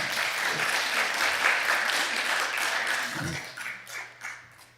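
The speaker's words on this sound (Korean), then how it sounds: "박수 쳐 주시기 바랍니다." Church congregation applauding at a Korean pastors' choir launch ceremony, a full round of clapping that fades out toward the end, with a brief low sound near the middle.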